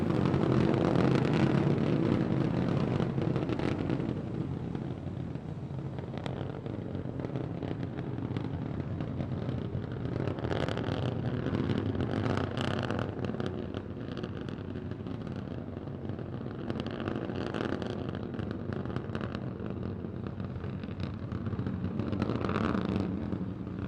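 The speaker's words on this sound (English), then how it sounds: "All 3 Raptor engines continuing to burn." SpaceX Starship SN15 climbs on three Raptor engines during a high-altitude test flight, producing a sustained, distant broadband roar that rises and falls slightly throughout.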